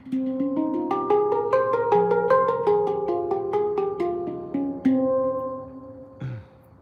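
Tongue drum played as a bright melodic run of ringing struck notes at a steady pace, each tone sustaining and overlapping, close and clear, ending with a final note and a soft handling knock.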